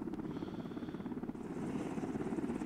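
An MH-60L Black Hawk helicopter in the Arma 2 video game flies steadily, a dense rotor and engine drone holding loud and continuous throughout, swelling slightly toward the end.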